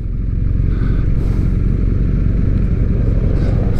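BMW R1250R motorcycle engine on a test ride, a steady low rumble with rough, dense texture held at constant loudness, close and continuous with no talk.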